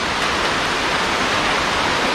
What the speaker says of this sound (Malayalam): ഗൈസ് ഇപ്പൊ ചെറുതായിട്ട് മഴ പെയ്യുന്നുണ്ട്